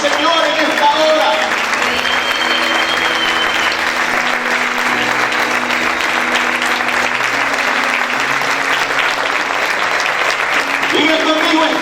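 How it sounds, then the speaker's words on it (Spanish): A church congregation applauds loudly and steadily during worship, with dense sustained clapping mixed with voices and music underneath throughout. "que se escuche esa alabanza, que se escuche ese aplauso al Señor en esta hora."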